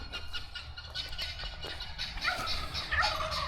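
Turkeys on a homestead farm gobble repeatedly in overlapping bursts, fairly close, over a low background of other fowl and farmyard noise.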